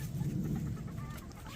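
A small bantam hen gives a brief, soft run of low clucks close by in a farmyard, faint and quick with no one speaking.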